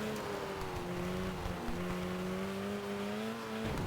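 Rally car engine in Sega Rally Revo on PSP held near maximum revs, a steady high-pitched drone with a slight dip mid-way, loud and continuous with no talking.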